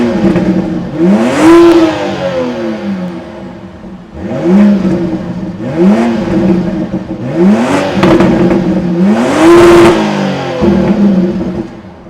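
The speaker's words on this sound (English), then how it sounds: "let's fire up this 3-liter straight 6 twin scroll turbo, and here how she sounds for 2025" A BMW X3 M50's 3-liter B58 twin-scroll turbo inline six revs hard about five times in a row, each rise climbing in pitch before dropping back to idle. It is loud and close, with no talking.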